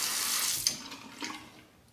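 Razor rinsed under a running tap, a soft hissing stream of water that fades after a moment, with a couple of small splashes and clinks, close and quiet.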